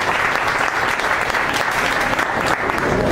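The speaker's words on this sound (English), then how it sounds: "I think you guys should all give yourselves a round of applause" Employees of Mixed Telematics applaud at a company gathering, with dense, steady clapping from a large group filling the room at a loud, even level throughout.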